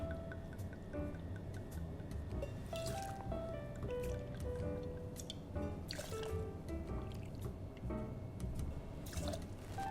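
Bacardi light Cuban-style rum is poured at a cocktail bar, a soft trickle and drip under quiet bar ambience, with faint clinks and splashes scattered throughout.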